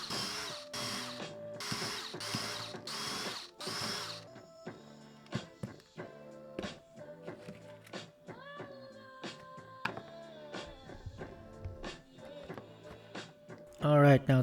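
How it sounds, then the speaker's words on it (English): A power drill bores drain holes into a homemade tofu press in intermittent whirring bursts with rising and falling pitch, preceded by several sharp clattering strokes. "And now we are drilling the drain holes."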